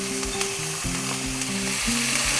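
Onions sizzle and fry in two spoons of hot oil in a large pan, a steady close crackle with a few stirring scrapes and no voices.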